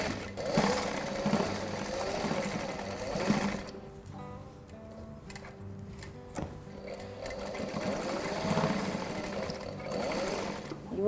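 A sewing machine stitches around the frilled edge of a scatter cushion through thick layers of fabric, its fast mechanical whir running in bursts with brief pauses, close and fairly quiet.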